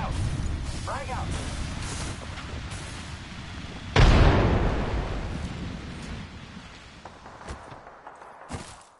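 A frag grenade detonates in the battle game Apex Legends with a sudden loud boom midway, its rumble slowly decaying over ongoing gunfire and game noise, with a sharper crack near the end.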